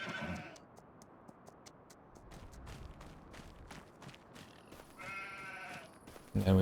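Sheep and goats bleat repeatedly at night on a farm, in short overlapping calls at moderate distance, with a louder cluster near the end over a faint background.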